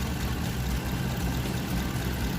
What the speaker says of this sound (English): we will observe the idling if there is some changes in the sounds